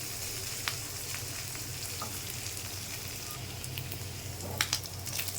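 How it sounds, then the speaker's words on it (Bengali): Onion fries in oil with shrimp for a taro-leaf (kochu shak) dish, giving a steady close sizzle with a few faint spatula taps and stirs, no voices. "ভালোভাবে ভাজা হবে পেঁয়াজটা।"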